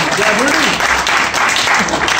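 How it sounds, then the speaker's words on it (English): Audience applauding attendees of an entrepreneur interview event, a dense, loud and steady wash of clapping across the whole stretch with possible faint voices mixed in. "So give a round of applause for yourselves for coming in."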